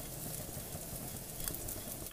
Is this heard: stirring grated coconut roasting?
yes